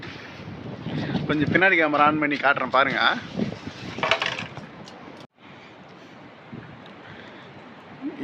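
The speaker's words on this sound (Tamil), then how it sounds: "நல்லா காற்று பலமாக அடிக்குது" Strong wind of a Kuwait dust storm roars and buffets the microphone as someone talks over it, then a steady gusty rush continues on its own.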